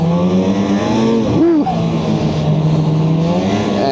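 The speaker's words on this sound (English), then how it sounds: "The Freeride 800 here is kind of a crossover on and off trail sled." A Freeride 800 snowmobile engine out on a cold-weather trail ride drones steadily and close, its pitch rising briefly in a quick rev before settling back to an even hum.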